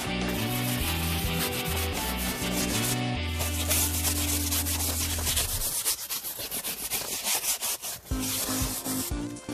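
A brush scrubs a car seat in steady, close scratchy strokes that turn into a faster, rougher rhythmic scrubbing toward the end, over a continuous low background hum.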